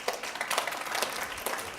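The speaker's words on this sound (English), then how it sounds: "By a round of applause." An audience claps in a round of applause at an energy summit talk: steady, dense clapping that holds for the whole stretch with a few sharper bursts, fairly close and with no voices over it.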